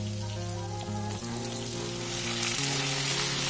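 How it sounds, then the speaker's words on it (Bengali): Pointed gourd and potatoes fry in a pan, a dense, loud, continuous sizzle and crackle like heavy rain, close by, with a steady background tone and no voices. "এবার আমি পটলটা দিচ্ছি"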